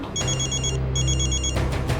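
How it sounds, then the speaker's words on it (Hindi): A telephone rings with repeated bright electronic trills in two bursts separated by a short gap, loud and close over a low steady hum, with no talking. "आज तो आपका फ़ोन बहुत बज रहा है।"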